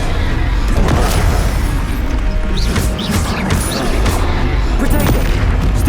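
An Expelliarmus spell blast in the video game Hogwarts Legacy amid heavy combat, loud crashing impacts and booms layered densely over one another with scattered whooshes and voices throughout.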